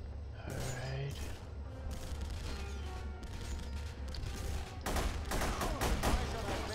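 Gunfire in The Punisher PC game, a continuous rattle of automatic shots under game ambience, growing louder and denser toward the end with sharp bursts.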